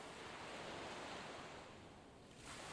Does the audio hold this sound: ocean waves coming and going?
yes